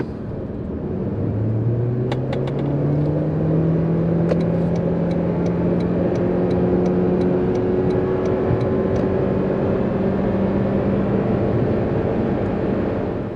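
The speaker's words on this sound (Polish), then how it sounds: "Wyjeżdżamy na trasę, gaz w podłogę." A Toyota Corolla Cross facelift engine drones loudly, its pitch climbing steadily through the gears as it accelerates at full throttle on an open road, with a few faint ticks over the roar.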